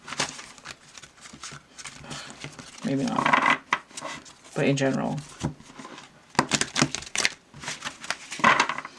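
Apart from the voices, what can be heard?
tarot cards being flapped and shuffled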